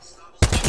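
Enemy gunfire in a video game arrives as a sudden loud burst of rapid shots that cuts in abruptly after a quiet moment.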